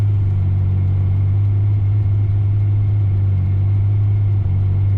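A car fitted with a Precision 8685 turbo pulls hard in fourth gear, a loud, steady, low engine drone heard from inside the cabin with little change in pitch and no speech.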